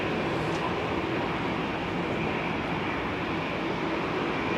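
An Airbus A380 airliner turning at Heathrow Airport, a loud, steady broadband jet engine roar that stays close and constant with no talking.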